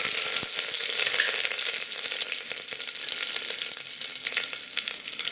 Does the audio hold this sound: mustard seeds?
yes